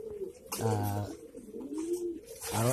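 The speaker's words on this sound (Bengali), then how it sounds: "ফ্যান্সি কবুতর" Fancy pigeons coo close by in low, throaty, rolling calls, a couple of repeated bouts with short gaps between them.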